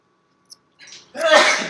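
A single sharp sneeze bursts out after a brief quiet intake of breath, close and fairly loud.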